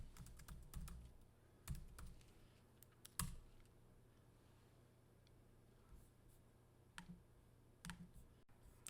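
A password is typed on a computer keyboard: sparse, faint key clicks in small clusters with pauses between, recorded close in a quiet room.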